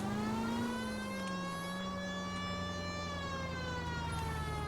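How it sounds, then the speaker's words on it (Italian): A police car siren wails in the video game L.A. Noire, a loud, steady, close tone that slowly rises and falls over a continuous engine rumble, with no talk. "Ciccino, avevo la sirena"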